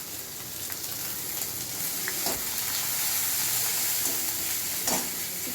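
Onions dropped into hot oil in a pan with garlic and bay leaves, sizzling and crackling steadily and close, with a few clinks and scrapes of a spoon stirring, no talking.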